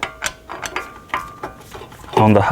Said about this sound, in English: So now I'm gonna undo these two screws that hold the brake rotor on the hub